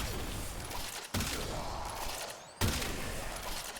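Rauta shotgun blasts in Warframe: two sharp, loud shots about one and a half seconds apart, each leaving a dense, noisy tail amid busy game sounds.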